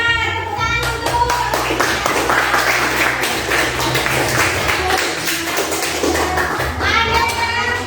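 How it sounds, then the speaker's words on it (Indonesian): Classroom applause from a group of children, a dense steady patter of clapping lasting several seconds with some voices mixed in, fairly close and even in loudness throughout. "tepuk tangan untuk"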